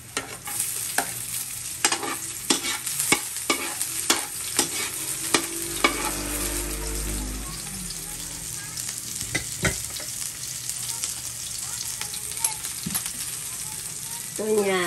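Garlic and onion fry in hot oil while being cooked for Bicol Express, a steady sizzle broken by repeated sharp clicks of a utensil stirring the pan, with a louder surge of frying partway through.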